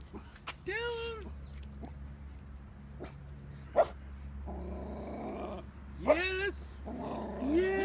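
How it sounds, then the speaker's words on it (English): Working-line dogs barking, yipping and growling in repeated bursts nearby, with a person speaking briefly between the outbursts. "Oh, there's the doggies."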